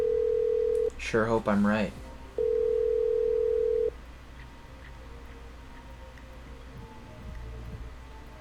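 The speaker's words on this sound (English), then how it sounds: "Okay, I'm dialing." Steady telephone dial tone in the game Killer Frequency, cut by a short burst of a voice, then the tone returns briefly before giving way to a quiet room hum.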